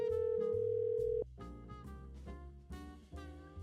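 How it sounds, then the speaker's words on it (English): A phone goes off: a loud, steady electronic tone holds for about a second, then cuts into a bright, melodic ringtone pattern that plays on alone. "My phone just went off."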